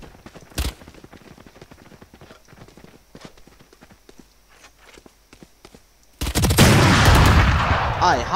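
Valorant gameplay with rapid footsteps in a quiet stretch and one early shot, then a loud, sustained burst of automatic gunfire erupts near the end.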